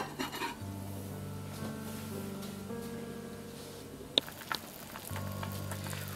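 Nabe hot pot simmering and sizzling in a pot, a steady frying hiss with light utensil scrapes and a sharp clink as the lid goes on, the sizzle continuing after; no talking.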